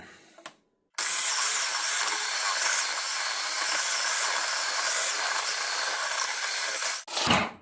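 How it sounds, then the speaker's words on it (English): Block of cheese rubbed against a grater, a steady close rasping scrape running unbroken for about six seconds after a brief pause, then a couple of short knocks and handling noises at the end. "it's time to get our cheese grated"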